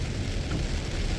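Heavy rain pouring down in Hepworth, Ontario, a steady, dense hiss of falling water that fills the whole moment without a break.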